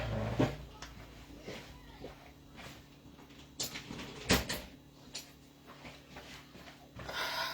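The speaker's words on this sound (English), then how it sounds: "So I'm just going to shut the door 1 second." A door is shut indoors with a couple of soft wooden knocks and a firmer thud near the middle, heard close and fairly quiet against room tone.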